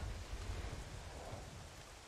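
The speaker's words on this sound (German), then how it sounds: "Also seit es regnet, habe ich das Gefühl, ich kann nicht mehr" Steady rain in the dinosaur survival game The Isle makes a soft, even hiss with a low rumbling undertone, faint and continuous with no other sounds.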